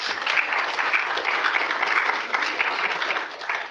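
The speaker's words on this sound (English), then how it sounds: "Round of applause." Steady, dense applause from an audience at a health conference session, loud and sustained throughout with no pauses.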